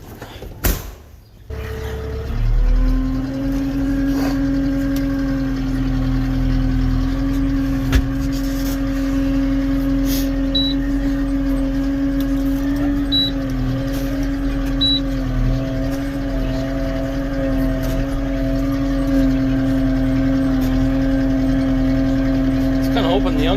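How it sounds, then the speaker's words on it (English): An old race car engine starts and settles into a low, steady idle, a deep continuous drone with a prominent humming tone held nearly constant throughout, heard close. "Old race car engine in this baby. A low B idle."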